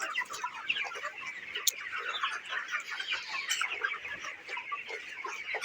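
A flock of broiler chickens clucks continuously in a steady, overlapping chorus with occasional sharper calls standing out.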